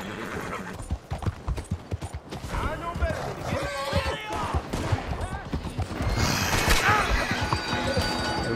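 Horse hooves clip-clop steadily in Red Dead Redemption 2, with a horse whinnying and gunshots crackling toward the end, while a player talks over the galloping.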